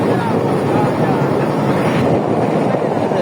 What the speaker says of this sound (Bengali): আমাদের আবার আগের গন্তব্যস্থানে আমাদের ট্রলার যাচ্ছে